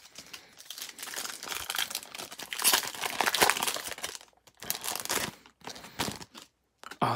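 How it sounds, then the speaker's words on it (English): Walmart Prizm basketball card packs being torn open by hand: close, loud crinkling and tearing of foil wrappers in bursts over several seconds, with brief quiet pauses between rips and no talking. "But you want to stay and watch some ripping?"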